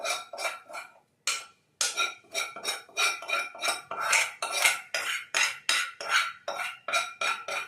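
Roasted spices are stirred into kadhi in a pot, with a rapid, regular metal-on-metal scraping and clinking of a spoon against the pot, loud and close, briefly pausing once.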